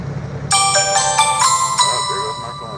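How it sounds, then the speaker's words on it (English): A mobile phone ringtone plays loudly and close by, a bright run of repeating melodic tones lasting a couple of seconds, outdoors on a hot night with someone talking faintly underneath. "Oh, there goes my phone already."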